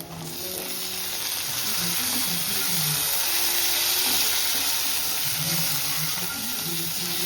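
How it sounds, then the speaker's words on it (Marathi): Chopped tomatoes sauté with onions in a hot pan, a steady, close sizzle and crackle holding at an even level throughout with faint stirring under it and no voices. "टॅमॅटो पण आपल्याला सॉफ्ट होईल तोपर्यंत परतायचा आहे मस्त"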